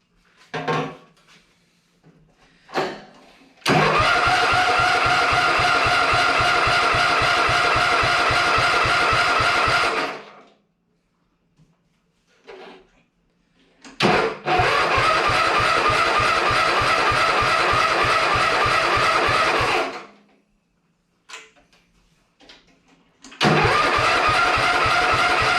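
The engine of a Sears Suburban ST16 lawn tractor cranking over and failing to start. Two long, loud, steady starter-motor grinds of about six seconds each are separated by quiet pauses with a few clunks, and a third crank begins at the end.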